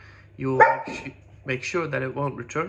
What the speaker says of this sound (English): Sorry, that was the dog.